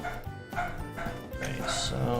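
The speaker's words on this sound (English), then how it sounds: "if you guys hear dogs barking in the background" Dogs bark and yip repeatedly somewhere in the neighborhood, the sharp barks sounding moderately close over a steady background with voices present.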